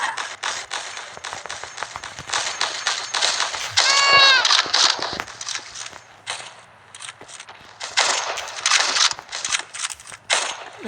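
Gunfire in the online shooter game Polygun Arena, a steady run of short sharp shots in bursts across the whole stretch, with a brief springy mechanical twang in the middle.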